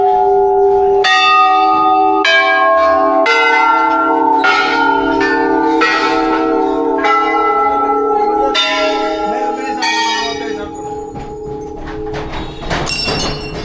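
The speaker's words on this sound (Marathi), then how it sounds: "बापरे, किती घंटा." Many temple bells hung along the Aadi Kailash route in Uttarakhand ring together, overlapping metallic strikes and long sustained tones sounding loud and close with no talk over them.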